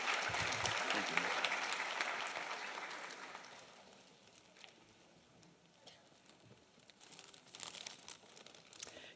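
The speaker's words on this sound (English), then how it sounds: "So please help me give a big round of applause to Mrs. Ajami" A crowd at a school superintendent's honors night gives loud sustained applause that fades after a few seconds, followed by quieter rustling and scattered small sounds in the hall.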